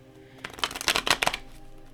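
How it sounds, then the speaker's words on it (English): Deck of tarot-style cards being shuffled vigorously close up, a quick burst of riffling flicks and slaps lasting about a second before it tapers off. "every time I pull from this deck, I always like really shuffle it real good"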